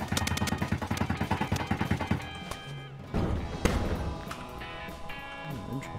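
Ship guns firing in Space Engineers: a fast rapid-fire burst of evenly spaced shots for about two seconds, then heavy thuds and booming impacts with mechanical rumble, loud and close with no voices.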